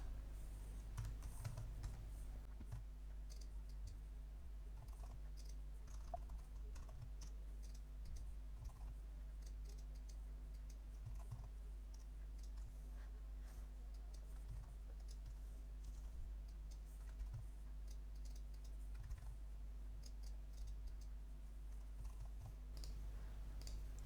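Prices are typed on a computer keyboard, producing a steady run of faint, quick key clicks over a constant low hum for the whole stretch.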